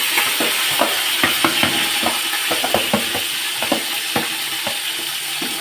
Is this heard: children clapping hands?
no